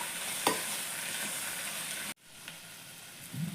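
Garam masala and salt frying in a pan for vegetable pulao make a quiet sizzle, with a stirring scrape early on and an abrupt drop to near silence about halfway through.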